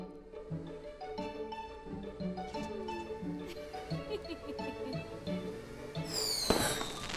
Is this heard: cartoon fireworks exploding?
yes